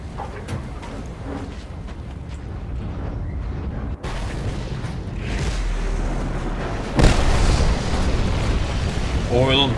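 An oil pump camp being destroyed in the Mad Max video game: a long, swelling roar of explosions and rumbling blasts builds steadily and peaks with a sharp loud crack, with a voice talking over the chaos.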